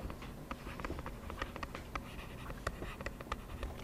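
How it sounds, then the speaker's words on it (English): Pen or marker writing notes by hand during a physics lesson on inclined planes, a soft close scratching with quick taps and strokes in an irregular rhythm, alone without talk. "Let's write that down."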